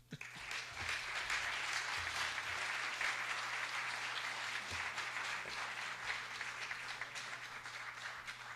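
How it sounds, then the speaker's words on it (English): A conference audience applauds for presenters at a consciousness-in-science conference, a sustained dense clapping that holds steady for several seconds and then slowly eases. "Can we have another round of applause for all of our presenters this morning?"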